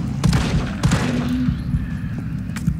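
Rapid gunfire in the Resident Evil 3 Remake video game, several sharp shots in quick bursts over a low rumbling background, loud and close.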